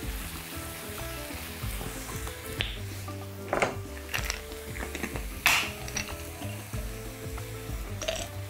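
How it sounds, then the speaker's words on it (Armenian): Mushrooms browning in butter in a frying pan, with a continuous close sizzle and crackle punctuated by occasional sharp clinks of a utensil against the pan. "Կարմրացնում ենք սունկը"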